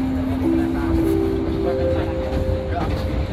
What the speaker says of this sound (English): sesaat lagi kereta api Gumaran akan tiba di stasiun Jatibara